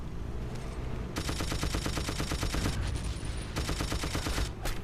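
Automatic gunfire in a video game rattles out in two long, loud, rapid bursts with short pauses between them, and a quick final volley follows.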